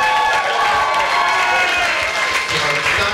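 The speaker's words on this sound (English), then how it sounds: "give him a round of applause" An audience at a stand-up comedy show claps and cheers in a dense, steady wave of applause, with a voice speaking over it.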